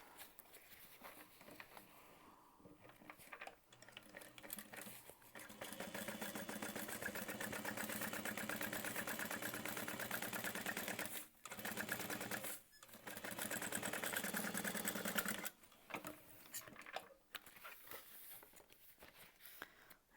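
A sewing machine top stitches in fast, steady runs of needle chatter lasting several seconds, broken by short pauses and quick restarts, fairly close and alone without talk.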